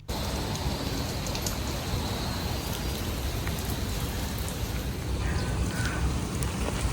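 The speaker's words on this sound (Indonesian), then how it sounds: "Tapi abis itu kebanjur hujan deras guys" Heavy rain pours down in the city of Almaty, Kazakhstan, a dense continuous hiss of drops on surfaces that stays steady and loud throughout, with no talking.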